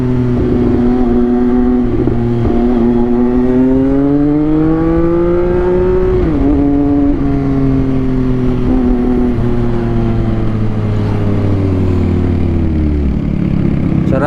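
A CFMOTO 675SR-R motorcycle fitted with an SC Project exhaust roars loudly and close on a road ride, its engine note rising and falling through repeated revs and gear changes for the whole stretch, with no talk.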